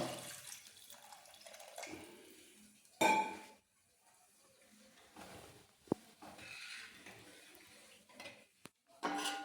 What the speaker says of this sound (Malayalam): കുറച്ച് വെള്ളം അവിടെ ഒഴിച്ചു കൊടുക്കാം.